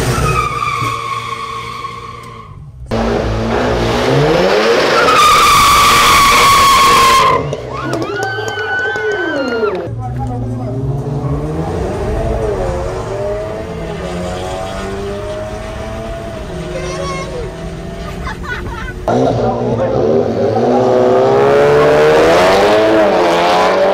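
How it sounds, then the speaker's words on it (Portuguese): A Volkswagen Jetta drag racing on a track revs its engine hard, then squeals its tires at launch and roars away. Rising and falling engine tones run loud and continuous throughout. "Deixa a rotação subir, solta o freio."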